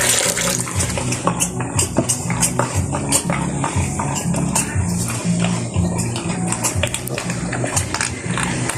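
Water poured into a feeding trough for a sow on a pig farm, a steady splashing fill with rhythmic slurping and snorting from the pig close by, a voice briefly heard.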